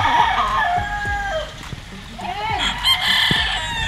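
A Kearney Golden Boy gamefowl rooster crows loudly and near, its call rising and falling, with clucking and other fowl calls around it.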